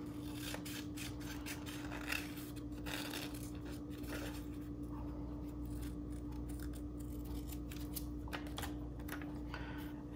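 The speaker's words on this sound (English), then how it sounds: "start going in and cutting out your detail" Scissors snipping out detail in a paper cutout craft, quiet repeated short clicks and cuts in an irregular rhythm over a steady background hum, no talking.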